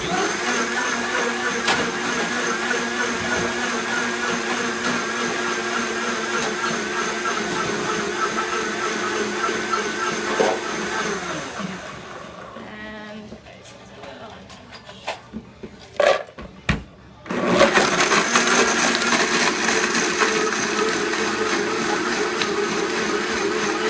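A countertop blender whirs loudly while mixing a post-workout drink, its motor a steady dense roar that drops off and sputters near the middle before surging back to full speed, close up with no talking.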